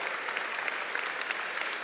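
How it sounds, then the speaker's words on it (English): Applause from a GOP convention audience, a steady, dense wash of many hands clapping at fairly close range, sustained evenly through the whole brief moment with no voices over it. "You should clap to that,"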